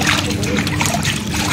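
Splashing in cold river water at Rishikesh, a dense, continuous watery wash with sloshing, close and fairly loud, with voices mixed in.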